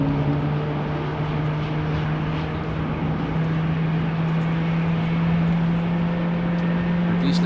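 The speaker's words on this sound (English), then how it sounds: "At least the engines of the Dreamliner that we're hearing." Boeing 787 Dreamliner engines at a rainy airport give a steady, moderately loud jet hum with a sustained low drone, continuous throughout with no break.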